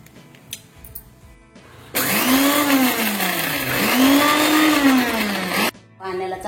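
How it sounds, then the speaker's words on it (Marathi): Garlic and cumin are ground into a paste in a kitchen grinder, with a loud, steady whirring motor that runs for nearly four seconds, rising and falling in pitch, between quieter stretches of kitchen background. "आता आपण लसूण आणि जिरे वाटून घेणार आहोत।"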